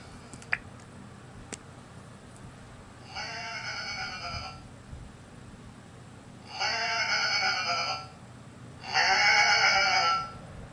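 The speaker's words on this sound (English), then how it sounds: "Was that supposed to be mechanical goat bleating?" Three buzzy, harsh bleats sound in sequence, each about a second long, with a synthetic, mechanical goat-like tone over a low hum.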